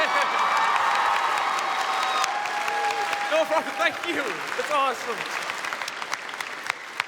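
A convention panel audience at PAX West 2016 claps and cheers loudly and steadily, with a few people talking over the applause.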